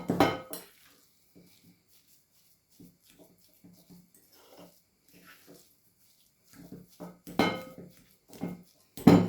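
Cottage cheese batter mixed with a little starch in a bowl, heard as sparse, soft spoon clinks and scrapes with quiet pauses, then a few louder clattering bursts near the end.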